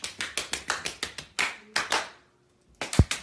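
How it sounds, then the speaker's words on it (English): A man clapping his hands in a quick series of sharp, loud claps, about nine in a steady rhythm, a short pause, then two more claps and a thump near the end, with no speech. "Is he actually clapping with his hands, making this sound?"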